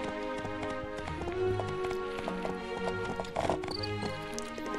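Horse hooves galloping in the video game My Time At Portia, a steady clip-clop rhythm running under layered game music, with a brief whinny-like call, fairly close and moderately loud.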